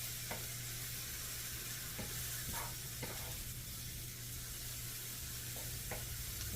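Mushrooms cooking down in a pan for turkey à la king, giving a steady soft sizzle and hiss throughout with a few brief stirring scrapes and clicks, close and fairly quiet, with no one talking.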